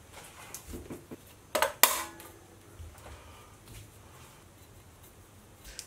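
A homemade punch and die shears through oiled sheet steel, giving one sharp metallic snap with a brief clunk just after it, standing out against an otherwise quiet workshop.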